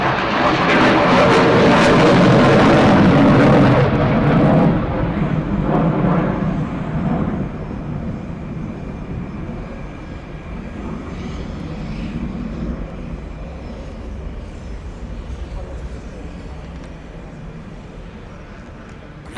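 A HAL Tejas fighter jet performs a maximum-rate turn at the Aero India airshow. Its loud jet roar dominates the opening seconds, then fades to a distant, steady rumble as it moves away.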